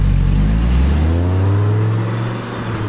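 An Audi R8 engine pulling hard under full throttle, a loud, close roar whose pitch climbs steadily as the car accelerates, then eases slightly toward the end, with no talking over it.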